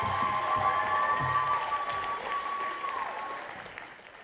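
Applause at the Essex Entertainment Awards 2013 for a special recognition winner, moderately loud and fading toward the end, with a sustained tone and background hall noise beneath the clapping.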